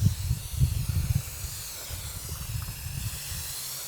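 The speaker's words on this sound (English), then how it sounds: "I have the nozzle set on the mist" A spray bottle nozzle set to mist sprays car cleaner in a soft, breathy hiss, with a few low thumps from handling at the start.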